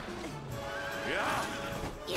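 A horse in a video game lets out a loud, wavering neigh about midway, its whinny sweeping up and down over a brief game soundscape with clatter and a voice speaking around it.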